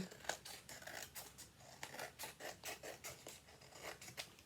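Scissors cutting craft paper, trimming an extra edge to match the other side, in a series of quick, rhythmic snips with a soft papery rasp, close and fairly quiet, with no talking.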